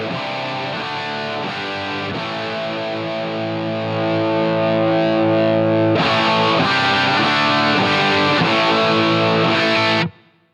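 A distorted electric guitar runs through a Line 6 POD Go with the volume pedal placed after the amp, ringing sustained chords that swell louder midway, turn brighter, then cut off abruptly.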